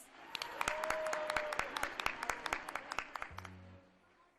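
Parents at a pre-primary school annual day clap for the children's performance, a burst of distinct, fairly rhythmic claps that thin out toward the end, with a faint tone underneath.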